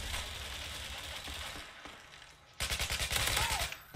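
SCAR-H battle rifle firing in Call of Duty: Modern Warfare 2 on PC, a steady stream of rapid, loud, evenly spaced shots starting partway through after quieter background game noise.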